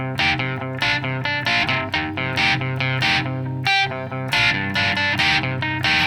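Distorted electric guitar plays a riff from a song, loud, steady chugging strums with repeated chord hits and a short break midway.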